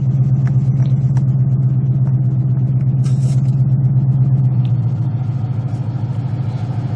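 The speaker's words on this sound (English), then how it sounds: "I heard the AC engage." A Ford Mustang engine idles with a steady low hum, and a slight drop in tone near the end as the air conditioning compressor engages. No one speaks.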